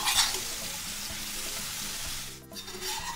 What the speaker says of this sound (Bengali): এটা অল্প একটু ভালো করে ভেজে নেব।